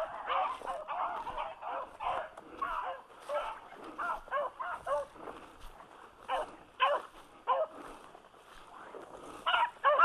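Beagles baying and yipping while chasing a rabbit outdoors, a pack of repeated bursts of barks and cries at close to mid distance, with a few voices calling now and then.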